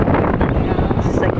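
Strong wind buffets the microphone in a steady, loud rush, with faint voices underneath.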